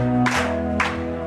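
A church congregation claps along while singing hymn 430. Two sharp, loud claps land about half a second apart over sustained singing and musical accompaniment.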